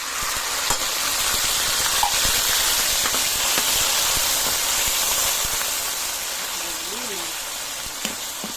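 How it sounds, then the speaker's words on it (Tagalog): Sardines hit a pan of sautéing garlic and onion, giving a steady, loud sizzle and hiss with occasional scraping stirs, while a voice speaks intermittently. "Lagay ko na guys yung sardinas."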